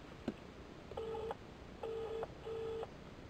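Telephone dialing on a call to the HM Revenue and Customs taxes helpline: a short click, then three steady electronic tone bursts with gaps between them, clear and alone over faint line hiss.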